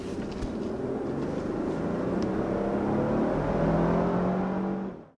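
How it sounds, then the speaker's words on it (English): Twin-turbo V6 of a 2023 Lexus LX 600 SUV accelerating, heard from inside as a steady rising engine drone with climbing tones through the gears, fairly loud, ending abruptly. "Now, another thing I wanted you to notice there upon that acceleration was what transmission we have on board."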